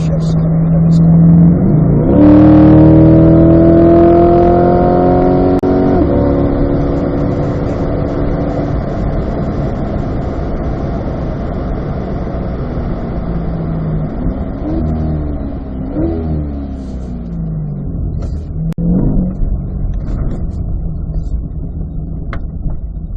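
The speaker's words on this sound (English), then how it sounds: "We'll let you hear the downshifts coming into this corner." Sports car engine, a Corvette C8 or Camaro ZL1, revs and drops through gears while braking into a corner on track, loud and close with rising and falling engine notes and brief pops, no talk over it.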